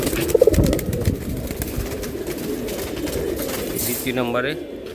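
Pigeons coo softly at a seller's stall, low throaty calls recurring under someone talking about the birds.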